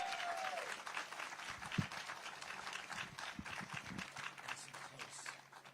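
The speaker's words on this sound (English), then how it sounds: "Round of applause." A crowd claps steadily and continuously for a speaker at a live stamp unveiling event, a dense, even patter holding from start to finish with no voices over it.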